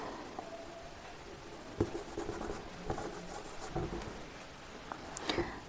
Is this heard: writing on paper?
yes